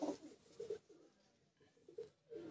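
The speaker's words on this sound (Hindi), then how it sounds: "ये बड़े नायाब कबूतर हैं" Rare paired pigeons on a rooftop coo softly in a few short, low bursts with quiet gaps between, close and faint.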